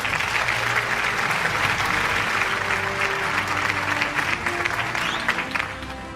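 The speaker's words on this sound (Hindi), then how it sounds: "भरपूर तालियां ख़ातिन और हज़रात।" A large audience at a City News Network annual award show in Pakistan bursts into full, sustained applause, dense and even for several seconds, with a low hum beneath.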